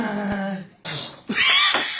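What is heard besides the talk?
child sneezing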